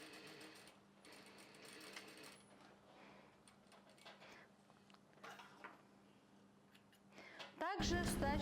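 A sewing machine stitches cambric skirt lining in a steady, close mechanical whir with light ticking, pausing briefly near the end before a louder burst of handling noise.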